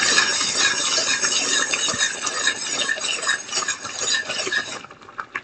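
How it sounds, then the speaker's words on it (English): A spoon scraping and stirring thick tomato chutney in a pot, with busy clinking and scraping strokes of metal against the pot that go on continuously, then thin out to a few scattered knocks at the end. "Alright, let me stir this"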